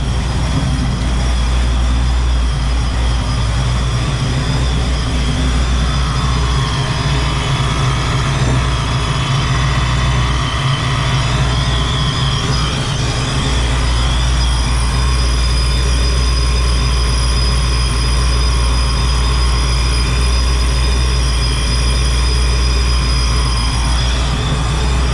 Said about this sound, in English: It's a little poppy, but what can you expect? Brand new motor.